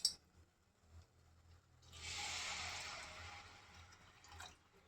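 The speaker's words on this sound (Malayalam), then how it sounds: "മസാലയെല്ലാം നല്ലോണം പിടിച്ച് ഇനി നമുക്ക് ഇതിനകത്ത് ആവശ്യത്തിന് വെള്ളം ചേർക്കാം." Water is poured into a pan of crab roast masala, a soft splashing hiss that starts partway through and holds steady before tapering off, quiet overall.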